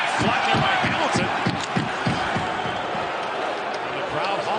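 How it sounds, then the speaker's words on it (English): A hockey arena crowd hollers and roars in a dense, sustained wash of voices during an NHL game between the Devils and Maple Leafs, with scattered thumps and a commentator talking over it. "And the crowd hollering about that"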